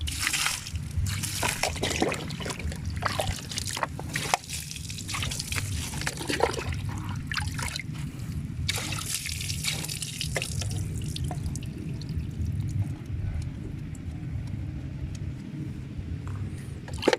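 Water splashes and trickles steadily over a surface freshly treated with a cleaning chemical, a continuous wet dribbling and dripping that runs alone without talk for the whole stretch.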